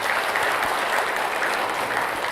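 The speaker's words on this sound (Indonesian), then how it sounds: "Tepuk tangan buat semuanya." Steady, dense applause from an audience at a religious study gathering, a continuous wash of many hands clapping with no pauses, loud and close.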